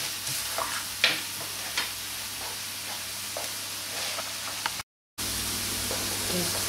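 Onions sautéing in a pan give a steady, dense sizzle with occasional scraping stirs, close and constant, and a brief dropout near the end.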